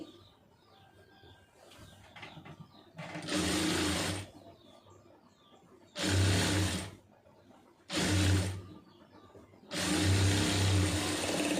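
A sewing machine stitches small stitches in four separate loud, even bursts lasting one to two seconds each, with quiet pauses between them where faint bird chirps can be heard.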